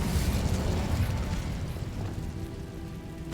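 An Incendio fire spell cast in Hogwarts Legacy, heard as a fairly quiet, sustained fiery roar with crackling bursts that gradually eases off.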